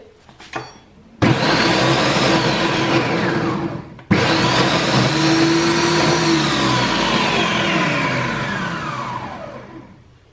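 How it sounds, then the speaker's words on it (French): A Monsieur Cuisine food processor from Lidl chops mushrooms and shallots in two loud whirring bursts, a short one at first and then a longer sustained run that winds down at the end, with no talking. "j'ai commencé par mettre mes champignons et des échalotes dans le robot et on va hacher"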